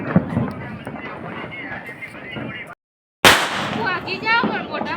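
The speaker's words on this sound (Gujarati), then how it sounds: "અહીંયા ફટાકડા થાય છે જો તો ભડકો કરે છે" Diwali firecrackers bursting outdoors: one sharp, loud bang cuts through after a brief silence, with crackling and people talking nearby before and after the blast.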